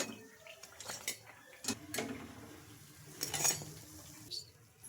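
Fried sago and chana dal vadas being shifted onto a plate, with soft clinks and scrapes of utensils against dishware in a quiet kitchen, a few sharper taps standing out.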